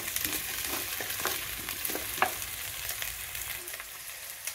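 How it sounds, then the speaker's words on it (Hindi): Onions frying in hot oil for a restaurant-style matar mushroom curry, a steady close sizzle and crackle with a few soft stirring clicks, no talk. "तेल हमारा गरम हो गया, इसमें प्याज डाल देते हैं।"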